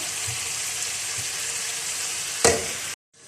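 Lemon chicken leg pieces fry in a pan with a loud, steady close sizzle, a few soft thumps, then a sudden bright burst of spattering before the sound cuts off abruptly.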